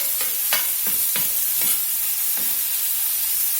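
Chicken browns in a pan for Tex-Mex jambalaya under a steady high hiss, with a few spatula scrapes in the first half before the sizzle carries on alone.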